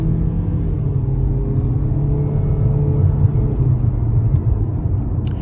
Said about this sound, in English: Let's see how it goes up this hill.